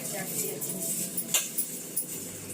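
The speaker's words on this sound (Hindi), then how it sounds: "ये खाना खा के वही जो है बर्तन वॉश कर रहे हैं" Dishes being washed by hand after a home meal: steel utensils and pots clink and clatter in irregular bursts over running background noise, with a few sharper metallic chinks.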